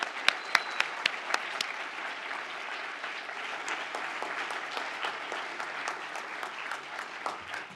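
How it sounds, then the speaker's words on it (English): Applause at a university commencement ceremony for a communication graduate, beginning with a few sharp, distinct claps nearby and swelling into steady, moderately distant clapping from the crowd in a large hall. "Let us give a round of applause to the graduate who has just been presented."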